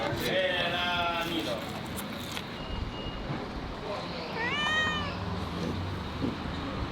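A cat at an Italian townhouse on the coast at Nardò, Puglia, gives two drawn-out meows a few seconds apart against steady background noise.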